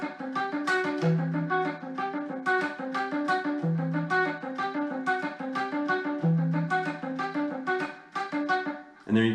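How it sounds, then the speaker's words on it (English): Electric guitar alternate-picking a repeating arpeggio pattern in the style of a lick from 1982, clean rapid notes cycling through the phrase alone and close, with a short pause near the end. "I'm just kind of alternate picking through that arpeggio pattern"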